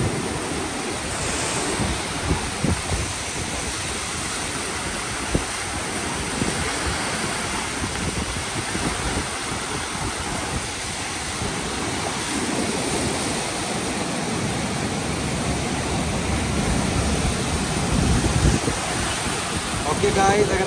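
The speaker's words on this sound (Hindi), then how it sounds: "ये सब पानी की आवाज़ है।" Loud, continuous roar of rushing water at the Koshi Barrage in Nepal, dense and unbroken throughout, with faint wind buffeting.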